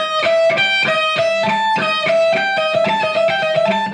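An electric guitar plays a quick pentatonic lick over and over, bright, rhythmic, evenly picked notes, loud and alone.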